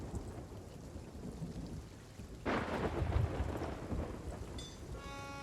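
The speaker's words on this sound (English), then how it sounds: "Oh, that lightning just hit right next to the boat." Video game thunderstorm by a boat: steady rain hiss, then a sudden close lightning strike cracks into a loud rumbling thunder roll, with sharp ringing tones entering at the end.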